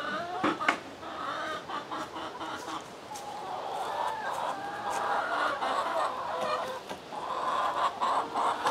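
Backyard chickens cluck and chatter close by as a recovering sick hen is let out on a cool morning, a busy run of overlapping calls with sharp clicks and rustling throughout.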